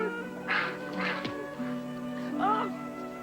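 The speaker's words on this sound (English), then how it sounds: "in the well swims a duck" Several loud, distinct quacks from a duck swimming in a well inside a church, spaced out in a short run, close and clear over a soft background.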